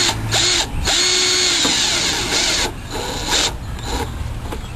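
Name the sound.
power drill driving screws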